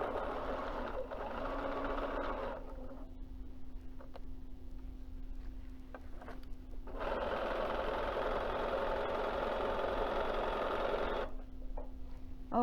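A sewing machine stitches a jeans hem in two steady bursts, the first lasting about two and a half seconds and the second about four, with a low motor hum and light handling noises in the quiet gap between them.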